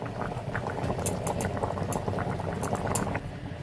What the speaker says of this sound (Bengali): আমার ঝোলটা ফুটে উঠেছে